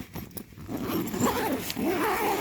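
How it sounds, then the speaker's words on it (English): An ESVO Barracuda tent's zip being pulled open, a steady close rasp with a few short pulls that run on for a couple of seconds. "All the zips"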